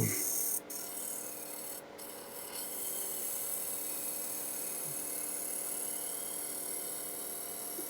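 A turning tool cuts against a spinning wood blank on a lathe to true it up, making a steady, close, rasping scrape that goes on without break over a low machine hum.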